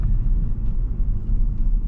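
A 2019 Audi A5 engine building speed from the cabin: a steady, loud low rumble with muted road noise and a few small rises in pitch.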